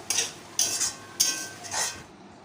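A spatula stirs a thickening jaggery and coconut filling in a pan for puli pitha, producing four distinct scraping sweeps in a slow, even rhythm, close and clear against a quiet background.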